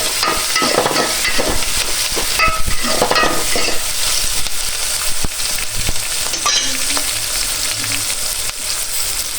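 Chopped onions are stirred into a pan of broad bean (chikkudukaya) curry, with a loud, dense sizzle and repeated spatula scrapes and knocks close by.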